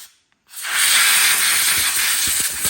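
Compressed air blasts onto the air filter of a Husqvarna chainsaw during spring maintenance, a sudden loud, close hiss that starts after a brief silence and holds steady.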